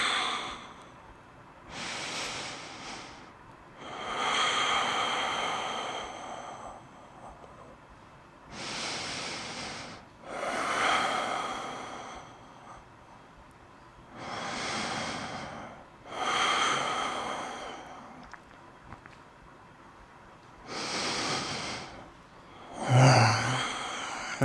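Slow, deep breaths during a seated groin and spine stretch come through as about five long, close inhale-exhale cycles, each a soft rushing swell with quiet pauses between.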